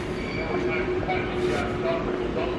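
Busy train platform in Washington DC during boarding, with a steady rumble of rail cars and station hum under a continuous tone, while people talk nearby throughout.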